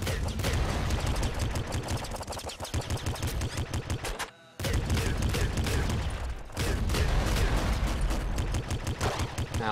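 Rapid, continuous weapon fire from the hyper launcher in the game Nuclear Throne, dense repeated blasts and explosions with one brief pause, loud and alone without talk.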